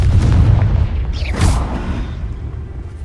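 Booming spell blasts in a wizarding video game, a heavy rumbling burst at the start followed by a sharp whooshing crack midway, then a fading low rumble; no talking.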